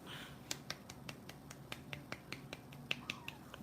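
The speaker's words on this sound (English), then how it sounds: "that was a weak little clap" Scattered, faint claps or snaps sound off one at a time at an irregular pace over a quiet background, light and thin rather than hearty.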